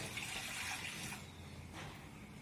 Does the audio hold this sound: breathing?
no